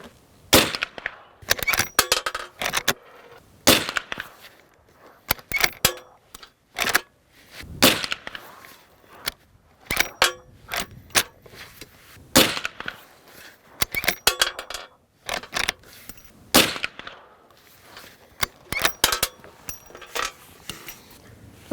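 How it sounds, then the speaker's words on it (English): Marlin 1894 lever-action rifle firing .44 Magnum rounds during a load-development group at the range, with many sharp loud reports and clicks coming in quick, irregular bursts throughout. "let's settle in and shoot a group"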